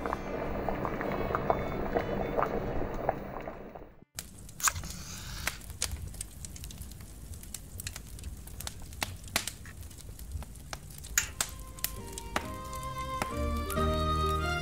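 A pot of carrot, squash and parsnip soup simmers with soft, irregular bubbling and popping. Some other sound comes first, then a brief cut, then the quiet bubbling runs steadily to the end.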